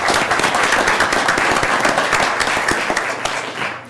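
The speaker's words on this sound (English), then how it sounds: "I'd like to give her a round of applause." A room at a public agency board meeting fills with loud, sustained applause, dense and even throughout with sharp individual claps standing out near the microphone.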